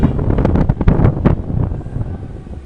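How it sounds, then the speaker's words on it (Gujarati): Gusty wind buffets an outdoor microphone on a shaking tripod, giving uneven low rumbling bursts and thumps that rise and fall over a few seconds. "પવન આવે છે ટ્રાયપોડ બહુ જ હલે છે"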